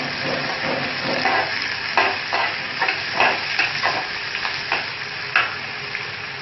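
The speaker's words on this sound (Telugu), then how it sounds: "పచ్చిమిర్చి, ఎండుమిర్చి ముక్కలు వేసి బాగా వేసుకుందాం. ఇది బ్రౌన్ కలర్లో వచ్చేంత వరకు వేగనివ్వాలి" Chopped onions with green chillies and dried red chilli pieces sizzle steadily in a pan for Andhra-style pappu charu, with intermittent stirring scrapes over a constant close fry, and no one speaking.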